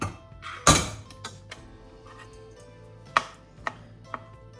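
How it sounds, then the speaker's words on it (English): Boiled broccoli being roughly chopped on a board, one heavy knife thunk followed by a few lighter scattered chops, close and otherwise quiet. "Roughly chop it."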